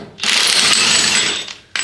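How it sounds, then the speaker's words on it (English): An impact wrench loosening a nut gives a loud, close, high-pitched whirring burst that runs for well over a second, stops, and then starts again briefly. "So the ultimate leverage is from this impact wrench."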